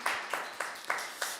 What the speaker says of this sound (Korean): 우리의 찬양과 기도를 바친 하나님께 영광의 박수 올려드리겠습니다.